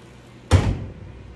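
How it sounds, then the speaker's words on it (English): A Monport laser machine's door shuts with a single firm thud and short rattle, loud and close, followed by a brief fading ring in a quiet room. "So let's close our door."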